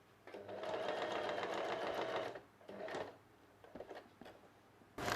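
An electric sewing machine stitching piping onto a blouse, running in a steady whir for a couple of seconds, then shorter bursts and light clicks as the fabric is adjusted, quiet and close.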